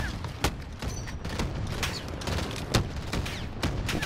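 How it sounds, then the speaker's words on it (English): Repeated grenade launcher blasts and gunfire crack through a Call of Duty: Modern Warfare campaign battle, sharp thumps every half second or so over dense rumbling combat noise, loud and close. "Where's that grenade launcher coming from?"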